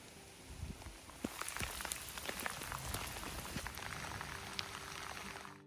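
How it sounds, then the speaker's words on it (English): A rain shower falls during a countryside walk along the Avon near Welford-on-Avon, a soft, steady close patter of drops with scattered sharper taps throughout. "It actually rained for quite a while."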